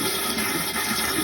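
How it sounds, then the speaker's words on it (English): Dirty, rusty water flushing under pressure out of a 1955 Buick Nailhead radiator, a steady close rushing wash with no pauses. "We're starting to get some dirty water out of it now."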